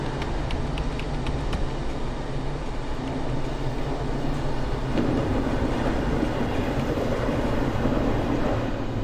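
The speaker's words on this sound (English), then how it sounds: "See, like the noise on the passing trains and stuff like that, it's good, isn't it?" Passing trains in the JR East Train Simulator video game, a steady rumbling rail roar with faint clickety-clack, continuous and fairly loud, no voices.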